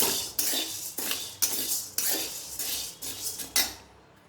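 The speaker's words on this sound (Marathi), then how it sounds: "हे पहा मस्त असा साबुदाणा भाजला गेलेला आहे पाहू शकता तुम्ही असा चटचट आवाज यायला लागलेला आहे" Sago pearls being dry-roasted in a pan give off sharp scraping, crackling bursts in a regular rhythm of roughly one every half second, close and clear with no voices.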